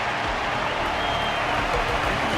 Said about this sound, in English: Their constant applause is a salute to this resilient Belabogian fighter.